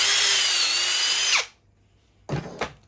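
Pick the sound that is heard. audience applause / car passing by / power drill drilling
power drill drilling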